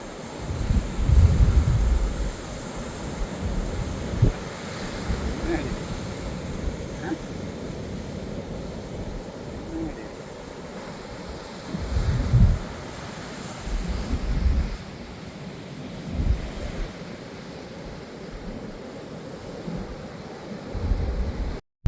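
Surf washing against the rocks of Muttom Beach, a steady low roar of breaking waves with swells that rise and fall and wind buffeting the microphone throughout.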